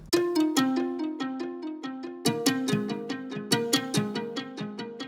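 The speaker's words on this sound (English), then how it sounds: "It's some sort of harp, it seems." A plucked, harp-like synth plays a bright melody of quick, evenly spaced notes, each ringing briefly before the next, with no voices.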